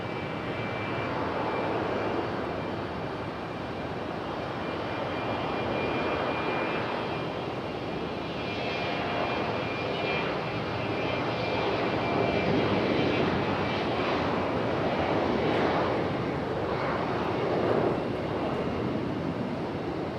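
An Aeromexico Connect jet departs Raleigh-Durham for Mexico City, a continuous engine roar that swells and surges in waves over about twenty seconds, moderately loud, with no one speaking.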